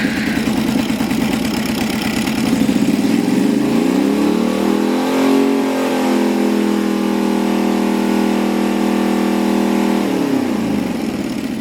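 A motorcycle engine revs up and holds at raised speed while its carburetors are being synchronized, then drops back. The steady, loud mechanical drone runs alone, with no talking.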